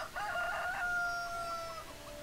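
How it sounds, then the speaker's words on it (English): Chickens cluck briefly in the Farming Simulator video game, followed by a single clear rooster crow that rises and then trails off. The sounds come alone, with no talk. "So we have our chickens."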